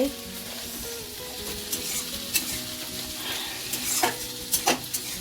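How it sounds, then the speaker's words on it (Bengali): Spring onion, potato and pumpkin fry in a pan with a steady close sizzle, broken by a few sharp stirring scrapes and clinks toward the end. "আর এখানে হচ্ছে পেঁয়াজকলি, আলু, কুমড়ো ভাজা বসিয়েছি।"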